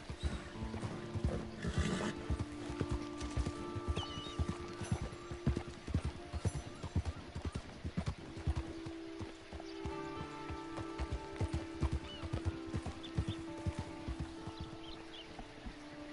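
A horse in the video game Red Dead Redemption 2 trots along with a continuous rhythmic clip-clop of hooves over a soft patter of rain, moderately close and steady throughout.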